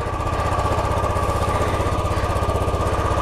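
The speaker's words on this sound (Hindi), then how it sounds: "और इतने पे ही रखो आरपीएम, ज़्यादा मत बढ़ाओ, ज़्यादा रेस भी मत दो बाइक को" A Royal Enfield motorcycle idles steadily on a cold morning with low oil, its single-cylinder thump pulsing in an even, rapid rhythm, close and loud throughout with no talk.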